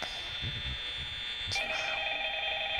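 In Five Nights at Freddy's, a telephone rings with a steady electronic ring over a low hum, and a second tonal ringing pattern joins midway, with faint thumps but no voices.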